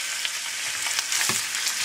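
Meat and softened onions frying in a pan give a steady, close hiss of sizzling with faint stirring scrapes, no voices.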